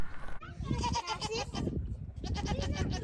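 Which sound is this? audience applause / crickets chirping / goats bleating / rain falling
goats bleating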